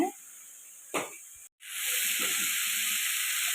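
Washed dried fish added to hot oil with chili powder for karuvattu thokku, a sharp burst of hiss as it hits the pan followed by a steady, fairly loud sizzle with faint stirring.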